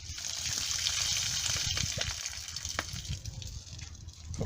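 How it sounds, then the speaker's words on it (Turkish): Water is strained off soaked rose petals for rose jam, giving a steady close splashing and trickling pour that thins out toward the end. "Ben şöyle öncelikle suyunu süzüyorum."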